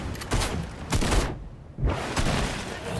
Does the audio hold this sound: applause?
no